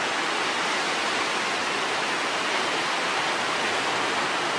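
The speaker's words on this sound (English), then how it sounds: "just a series of the waves hitting it" Ocean waves break against the rocky coast at Cape Arago in a steady, loud, unbroken roar of surf and spray, with no talk over it.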